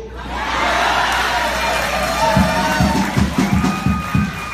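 An audience at a live event claps and cheers loudly, a sustained crowd roar with shouts and whoops, and rhythmic clapping swelling near the end.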